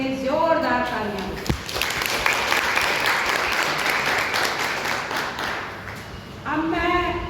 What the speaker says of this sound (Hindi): सभी लोग डॉक्टर अख्तर अली जी के लिए जोरदार तालियां।